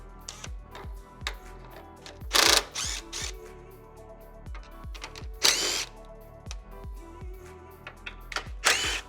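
Power tool spinning out factory bolts on a Rivian R1T/R1S during rock slider and aero armor installation, with repeated short whirring bursts and ratcheting clicks, close and moderately loud, with no one talking.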